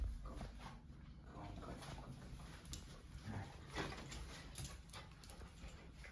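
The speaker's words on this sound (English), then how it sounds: "I have a puppy that likes nibbling on my fingers" A puppy whimpers in short, faint whines over a low background hum, with no one speaking.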